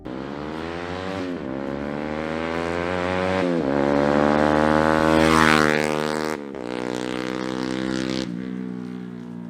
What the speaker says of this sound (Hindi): अगर आपको फ्लाई बाय का साउंड एक्सपीरियंस करना है तो आप ये क्लिप देखिए।